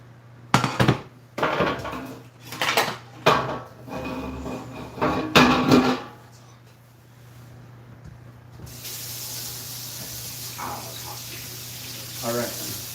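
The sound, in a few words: pan being washed and scrubbed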